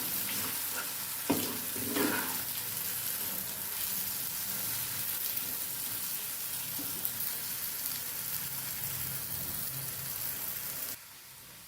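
A snack mixture for a farsan breakfast dish sizzles steadily in a pan on the gas as it is stirred and mixed, with a few scraping strokes early on over a constant frying hiss that drops away near the end.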